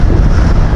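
Strong wind buffets the microphone during a ride to the Maragondon area, a loud continuous low roar with no break across the short moment.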